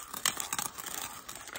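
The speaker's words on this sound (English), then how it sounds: "crush it between the two pieces of metal like a mortar and pestle, just grinding it up" Coffee beans crunch and grate between two pieces of metal worked like a mortar and pestle, a close run of short rasping strokes with no talking.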